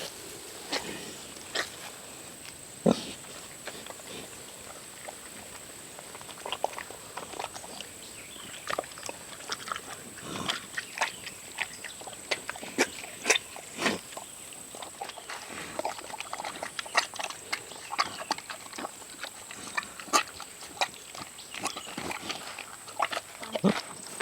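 Pigs and a boar eat watermelon on a farm, with scattered grunts, snorts and wet chewing in irregular bursts at close range over a faint, steady background hiss.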